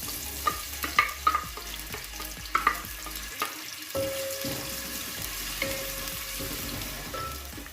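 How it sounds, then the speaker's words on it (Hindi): Onions fry in half a cup of cooking oil in a home kitchen for aloo methi. A soft, steady sizzle is broken by a few clinks and stirring scrapes, fairly quiet throughout. "सबसे पहले हाफ कप कुकिंग ऑयल डालेंगे। अब इसमें प्याज डाल देंगे।"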